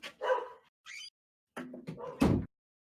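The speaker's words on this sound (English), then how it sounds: "Sorry, my dog's barking." A dog barks several times in short bursts, fairly close, with a few yips mixed in and brief pauses between.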